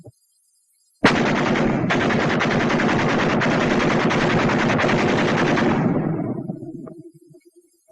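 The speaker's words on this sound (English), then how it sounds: "But a machine gun is more powerful than a BAR." A WWII-era .30 caliber machine gun fires one long, loud sustained burst of rapid automatic rounds for about five seconds, then the rattle cuts off and a short fading echo rings out in the open.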